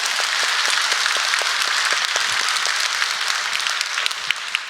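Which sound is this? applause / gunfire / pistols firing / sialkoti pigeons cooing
applause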